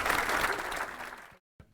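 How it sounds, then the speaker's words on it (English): A bar or club audience applauds for a woman in a dense, loud burst of clapping that stops abruptly, followed by a short faint thud after a brief silence. "Give her a big round of applause."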